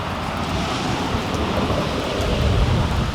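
Heavy rain pours steadily outside a garage, a dense, unbroken broadband hiss heard close and loud with no talking over it.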